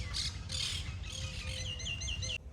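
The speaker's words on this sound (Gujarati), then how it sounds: "કે મસ્ત પંખીનો અવાજ આવે," Small birds chirping outdoors, several quick high tweets and short warbled calls repeating close by over a low background rumble, with no talk.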